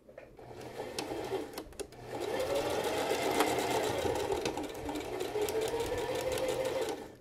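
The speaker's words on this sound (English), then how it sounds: "now we're going to start stitching all the way to the notch" A sewing machine stitches a seam on a garment from a Simplicity sewing pattern. A few short bursts come first, then a steady, close whirring run lasts to the end, with no talking.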